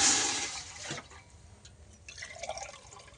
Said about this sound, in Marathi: त्यासाठी आता मी 4 ग्लास ही पाणी ओतून घेते.